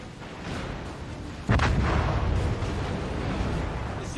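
Heavy battleship gunfire in a naval video game, with high-explosive shells fired: a loud sudden boom lands mid-clip over a constant rumbling battle background, then fades into a sustained roar.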